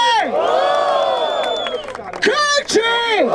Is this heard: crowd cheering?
yes